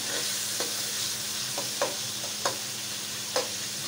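Tomato masala roasting in oil in a kadai: a continuous close sizzle with a few light spoon scrapes and taps from stirring, no talking.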